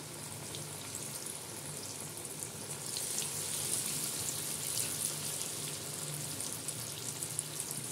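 Bottle gourd and gram flour pakoras (kofta) frying in hot oil, a continuous close hiss and crackle that swells a little partway through and carries on with no voices over it.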